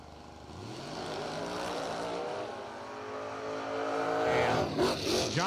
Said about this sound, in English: Johnny smokes the tires, right lane, rolling through with a 624